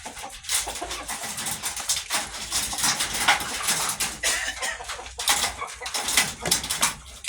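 Chickens cluck and peck steadily up close, with busy scratching and rustling throughout and no voices.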